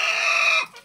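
A ready-to-lay layer hen giving a single drawn-out, strained cackle, close and loud for over half a second, then breaking off into a short fainter squawk.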